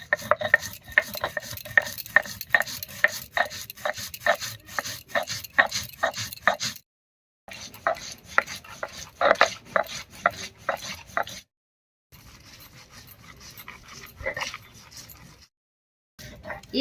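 Poppy seeds, melon seeds, black mustard, cumin and green chillies being ground into a paste, a steady rhythmic scraping and knocking of a stone grinder in regular strokes, stopping and restarting with short pauses.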